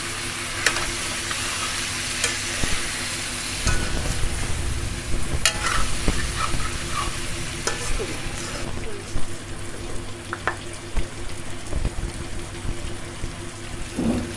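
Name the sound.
vegetables frying in a pan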